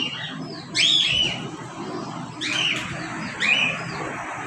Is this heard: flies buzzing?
no